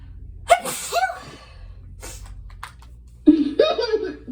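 A single loud sneeze erupts near the end, preceded by soft voices and breathing nearby.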